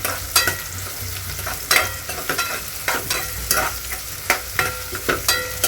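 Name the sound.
onions frying in a pan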